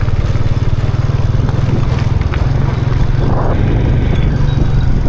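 A farm tractor from Nakhon Phanom chugs steadily nearby, its low engine thumping in a fast regular pulse that stays loud and even throughout, with no voices.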